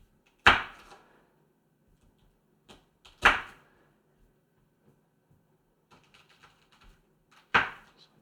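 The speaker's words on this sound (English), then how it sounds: "Brussels sprouts are just not easy to cut." A freshly sharpened knife cuts through hard little Brussels sprouts, making three loud, sharp chops spaced a few seconds apart, with softer taps and clicks in between, close and without talk.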